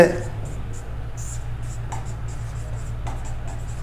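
A pen writes out a maths exercise in short scratchy strokes over a steady low hum.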